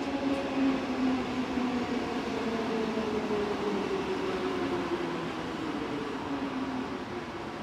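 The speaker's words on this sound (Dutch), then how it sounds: "Heel bijzonder is dit S-baan treinstel." A German S-Bahn electric multiple unit made of two orange-white cab cars and a blue-white middle car rolls past near Rosenheim or Munich. There is a steady broadband rumble of wheels on track with a slowly falling motor whine, and it stays continuous and fairly close throughout.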